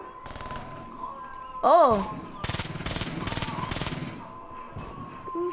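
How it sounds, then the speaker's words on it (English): Rapid machine-gun fire rattles in repeated bursts in the video game Call of Duty 3, amid a steady background hum, with a brief exclamation from a voice just before the firing starts. "I can shoot bullets too."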